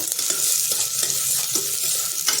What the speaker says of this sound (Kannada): ಇದು ಒಂದು ಸುತ್ತು ಹೀಗೆ ಹುರ್ಕೊಳ್ಳೋಣ.